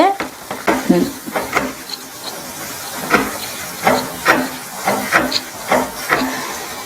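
Mango ginger pickle sizzling in a pan while being stirred, a steady frying hiss broken by rhythmic scraping strokes of the spoon, close and clear.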